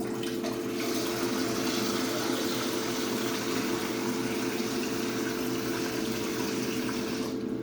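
Water runs steadily into a cooking pot to boil for penne pasta, a constant rushing stream with a low hum behind it. The flow stays loud and unbroken for several seconds, then cuts off at the end, with no talk.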